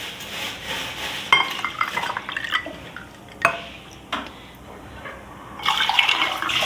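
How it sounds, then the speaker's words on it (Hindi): Mint sharbat is poured into glasses in a kitchen, giving soft liquid splashing and trickling with a few light clinks of glass. The sounds come in short bursts and are fairly quiet, with no talking. "प्यारे से गिलासों में डालती हूँ मैं।"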